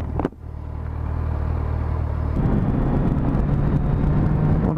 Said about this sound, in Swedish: Och där har vi en lastbil.